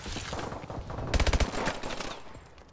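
Loud rapid burst of AMR 9 rifle fire in a shooter video game, a tight string of sharp shots over dense game background noise, with no talk.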